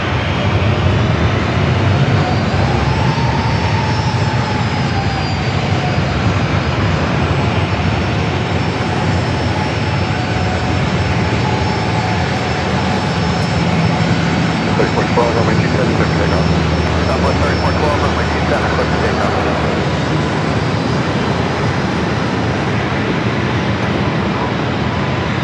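Two Coast Guard aircraft land side by side at San Diego airport, making a loud, continuous engine roar that holds for the whole stretch and sounds close.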